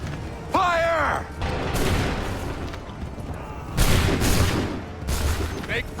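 A musket volley fired by a line of soldiers in Assassin's Creed 3 crashes out as a broad, rolling burst, followed by a second volley a couple of seconds later, with a shouted command and battlefield commotion around them.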